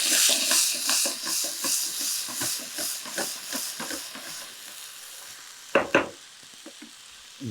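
Dried chillies and ginger garlic paste frying in a pan for ghee chicken rice, a loud hissing sizzle that pulses with rhythmic tossing, fading toward the end before a couple of sharp clanks, no voices.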